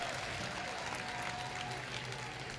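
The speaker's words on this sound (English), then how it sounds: "Give me a round of applause." Distant crowd at an outdoor light limited pro stock tractor pull in David City, Nebraska, applauds in a steady, faint wash of clapping with no clear speech.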